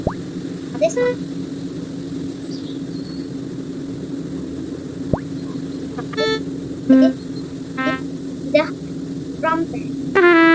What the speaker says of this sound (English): The trumpet.